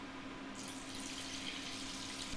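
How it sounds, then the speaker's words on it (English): Water pours from a container into a pot for a noodle soup with escarole, a steady close splashing rush that holds evenly for a couple of seconds. "I'm going to add the water."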